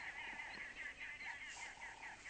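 Geese, including a gander, honking repeatedly at dawn on a South African safari drive near hippos, a steady series of nasal calls at moderate distance with no talk.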